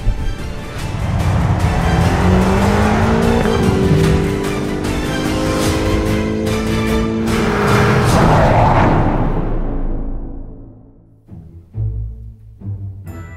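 A powerful twin-turbo V8 engine roars loudly and steadily, climbing in pitch, then cuts off and fades, leaving quieter rumbling afterward.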